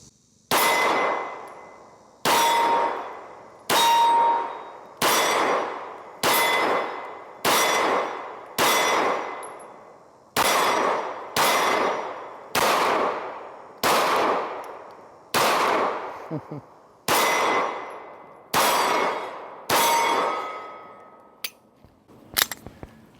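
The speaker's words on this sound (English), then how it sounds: "I'm gonna shoot it one-handed, which you probably already saw, and see if it locks back." Hellcat Pro Comp pistol fired at steel targets, including a Texas Star: about fourteen sharp, loud shots at a steady quick pace, each followed by a ringing metallic clang, with a few faint clinks at the end.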